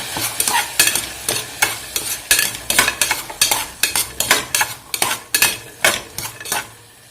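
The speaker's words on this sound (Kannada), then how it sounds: "ಇದನ್ನೆಲ್ಲ ಫ್ರೈ ಮಾಡ್ಕೊಂತೀನಿ." Peas, potato and turmeric for a green pea and potato pulao are fried in a pan while a spoon stirs them, with loud, rhythmic scraping strokes against the metal over a soft sizzle, close and continuous.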